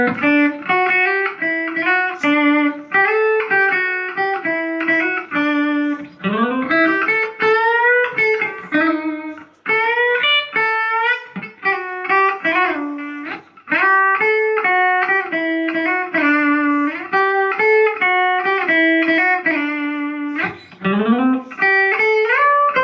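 A guitar plays the melody of a song: a steady, loud run of sustained single notes with occasional slides and quick note changes, with no talking.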